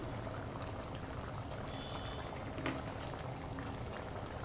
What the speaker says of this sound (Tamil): பட்டாணி வந்து நல்லா கொதித்து வரட்டும்